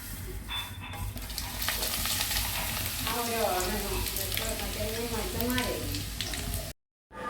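Coconut oil sizzling steadily in a cheenachatti Kerala wok for chicken, a loud continuous hiss close by, with voices talking over it in the middle before a brief drop to silence.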